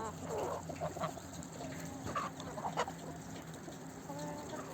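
Farmyard chickens cluck softly at a moderate distance, a few scattered calls over a steady low background hum, with no talking.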